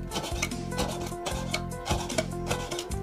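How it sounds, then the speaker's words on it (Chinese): Fresh pork kidney is sliced into strips with a knife on a cutting board: steady, rhythmic rasping strokes, close and moderately loud, repeating for a few seconds with no one talking. "再切成条"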